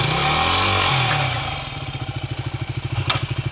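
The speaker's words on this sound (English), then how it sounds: "let's get this motorcycle back on the carrier" A motorcycle engine idles close by with a steady, rapid thumping pulse, after a louder rumbling start and a brief clatter as the bike is moved onto a carrier.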